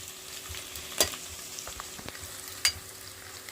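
Quiet frying of tempering for chicken curry in a pan with a soft background hiss, broken by two sharp clinks of a utensil against the pan.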